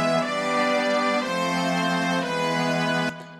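Major cadences played from a score, a sequence of sustained harmonic chords changing every second or so, moderately soft, ending with a sharp cutoff, no speech.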